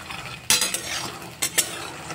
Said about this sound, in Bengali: সবথেকে প্রথমে বাদামগুলোকে ভেজে নিচ্ছি বন্ধুরা।